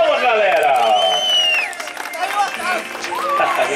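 An audience at an evangelical birthday celebration gives a round of applause with cheering and excited shouts, a dense, lively crowd sound with voices rising over the clapping for the whole stretch.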